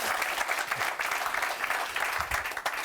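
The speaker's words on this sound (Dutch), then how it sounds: "Klappen ze vaak voor je" Studio audience applauding on a talk show, a dense steady wash of clapping that stays loud and even from start to finish with no voices on top.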